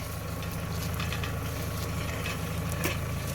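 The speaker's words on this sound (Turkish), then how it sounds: "Evet, yukarı kadar traktörle bu şekilde sürmeye devam edeceğiz." A tractor tilling a garden, with a steady, noisy engine rumble and a continuous gritty churning texture of the soil, plus scattered faint clicks, heard from moderately close and without any speech.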